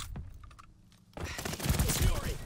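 Rapid bursts of Star Wars blaster fire crackle loudly in the second half of a Call of Duty: Vanguard match, preceded by a few quieter clicks and a brief tone.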